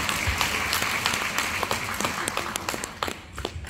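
A lecture audience claps together during a talk on school violence, the applause dense at first and then thinning into more distinct individual claps toward the end, heard alone without speech.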